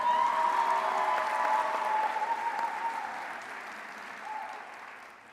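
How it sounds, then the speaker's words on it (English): A full crowd applauds steadily at a college of arts and architecture commencement ceremony, the clapping dense at first and gradually fading away, with a faint tone lingering underneath. "You can applaud these people."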